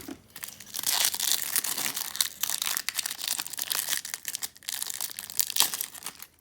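Foil trading card packs for Panini Adrenalyn XL football cards being torn open, a steady run of close, loud crinkling, crumpling and ripping of wrapper plastic with no pauses or voices.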